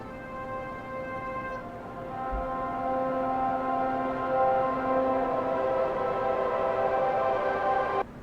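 A reversed synth-pad song export: a sustained harmonic drone swelling gradually from soft to full, with stacked steady tones, before cutting off abruptly near the end.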